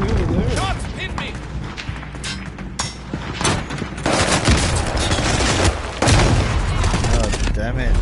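Rapid bursts of video game gunfire, machine-gun fire mixed with single shots, crackle loudly and almost without pause through the whole stretch, with players talking over the shooting.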